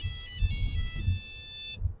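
A phone ringtone signals an incoming call, repeating a bright melodic pattern for under two seconds over low background thumps before cutting off.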